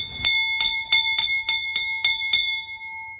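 A temple bell is struck eight times in a quick steady rhythm, each stroke ringing bright and metallic, leaving a sustained hum after the last.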